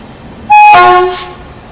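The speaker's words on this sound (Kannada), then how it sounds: "ನೋಡಿ ಬಂತು ನಮ್ಮ ಗಾಡಿ ಬನ್ನಿ ಈ ರೋಡ್ ಅಮೃತ್ ಭಾರತ್ ಎಕ್ಸ್ಪ್ರೆಸ್" An Amrit Bharat Express train sounds a loud, sharp horn blast at a station, a bright multi-tone toot lasting under a second and fading into a rumble.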